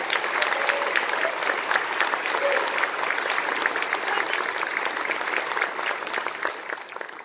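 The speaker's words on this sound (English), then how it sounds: "definitely want to give him a big round of applause tonight." A full-house audience at a community band's December concert applauds the composer of a new march, steady dense clapping sustained throughout, fairly loud and even, fading slightly toward the end.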